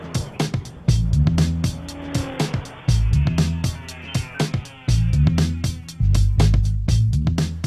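A 2014 Chevrolet Cruze turbo diesel drives hard, its engine note rising in repeated surges broken by gear changes, with the pitch climbing and dropping, heard close and loud.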